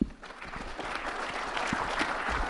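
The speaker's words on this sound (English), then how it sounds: "Please give them a warm round of applause." An audience applauds conference speakers taking the stage at a security talk, steady dense clapping from a crowd that holds at an even level throughout the short burst.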